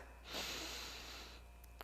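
A deep breath is drawn in during a yoga stretch, a long, close, airy inhale lasting about a second, followed by a faint sniff.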